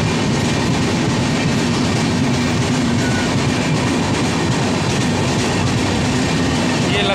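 Onboard the Neelachal Express, a steady roar of wheels on rails and a rumbling carriage fill the whole stretch, loud and continuous with faint clicking underneath.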